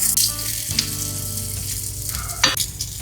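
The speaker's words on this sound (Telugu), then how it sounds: "కట్ చేసుకున్న ఎర్రగడ్డల్ని మనం వేయించుకోవాలి." Chopped onions sizzle steadily in hot oil in a pan, a loud continuous frying hiss with a few brief stirring scrapes and no talking.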